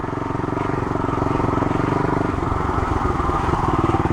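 A Honda XL 250 motorcycle rides along mowed farm trails through a forest, its single-cylinder engine thumping in a fast, steady pulse, loud and close throughout.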